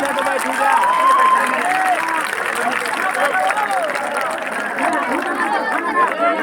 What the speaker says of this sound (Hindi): आदरणीय बहन जी का तालियों की ध्वनि से स्वागत व अभिनंदन करेंगे